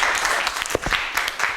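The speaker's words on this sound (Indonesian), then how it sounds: "Tepuk tangan untuk kelompok 5" Audience clapping for a presenting student group at a teacher-training class session, a short burst of dense, close applause with a few sharper individual claps standing out.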